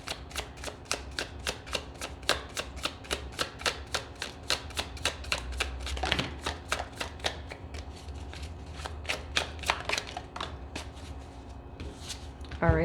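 Tarot cards shuffled steadily by hand, a long run of crisp, rhythmic riffling flutters close by, repeating evenly with little pause.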